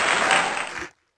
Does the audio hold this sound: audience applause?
yes